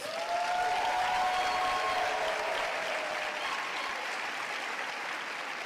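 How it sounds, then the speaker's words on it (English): An audience applauds at a royal guest lecture at Howard University, the clapping full and sustained and tapering slightly toward the end. A faint tone briefly sounds early on. "He deserves a bigger round of applause."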